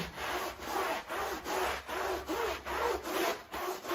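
A yoga mat sprayed with homemade cleaning solution is scrubbed in quick, even back-and-forth strokes, about two per second, a close and fairly loud rasping rhythm with no voices.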